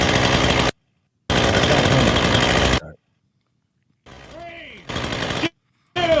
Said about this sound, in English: Lighting up the chainsaw.